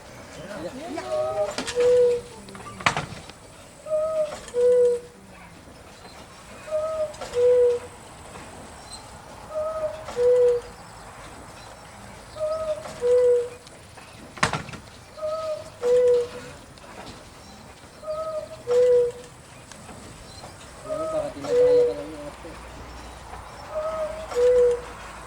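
Giant cuckoo clock in Schonach in the Black Forest calls cuckoo again and again, a steady two-note pattern repeating about a dozen times at even spacing, with people murmuring around it outdoors.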